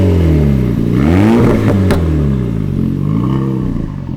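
A 2020 Renault Megane RS Trophy engine revving through its exhaust, loud and close, the pitch rising and falling in a couple of swells with a brief clattering burst in the middle.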